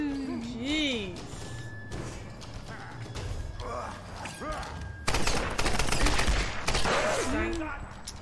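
Gunshots ring out in the Tomb Raider video game on hard difficulty, firing in rapid clustered bursts with mechanical clanks, while people talk and exclaim over them.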